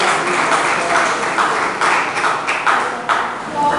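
A church congregation claps in praise, a fast, busy patter of many hands under room echo, fairly loud and steady, with faint voices underneath.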